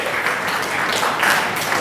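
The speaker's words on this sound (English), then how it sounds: "A round of applause to Team 4." Brief burst of dense audience applause for a quiz competition team, a steady wash of many hands clapping at moderate loudness throughout.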